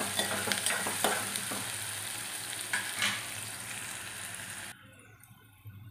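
Onions frying in a pan for a vegetable curry make a continuous close sizzle with intermittent stirring scrapes, which cut off abruptly near the end and leave a quieter hiss.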